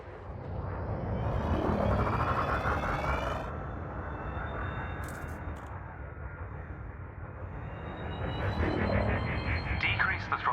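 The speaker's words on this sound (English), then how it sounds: "Now increase your throttle to accelerate forwards." Spaceship engine thrust from Elite: Dangerous accelerating forward, a loud, steady, dense roar with a rumbling low end that swells again toward the end, no talk.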